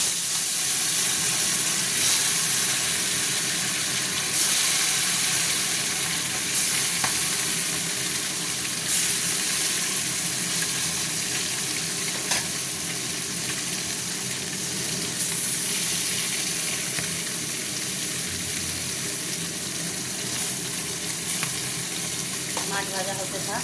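Amudi fish fry in hot oil in a pan, a loud continuous sizzle and spatter running at close range with small bursts and occasional stirring clatter, no voices.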